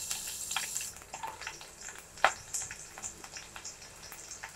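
Garlic dropped into hot coconut oil gives a faint, crackly sizzle with scattered pops and one sharper spit near the middle, steady and without voices.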